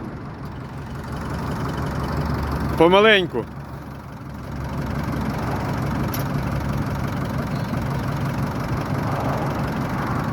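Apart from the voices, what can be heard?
tractor engine idling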